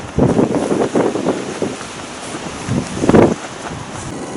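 Wind gusting over a river in the taiga, driving a small boat against the current, heard as broad rushing buffets with sloshing water, swelling loudest near the start and again later, close to the microphone, with no voices.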